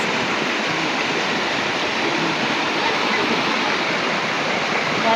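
River water flowing in a dense, constant rushing roar, close and loud with no breaks, no voices standing out above the steady wash.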